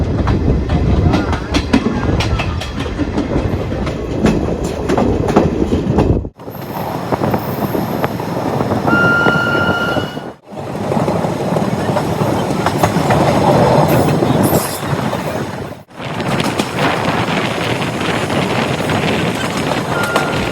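Garib Rath special train running on rails near Bagaha station in West Champaran, Bihar: loud steady rolling rumble with clickety-clack and wind buffeting, broken by three brief near-silent gaps.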